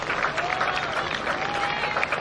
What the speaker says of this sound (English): It's a good round of applause as she exits the pitch.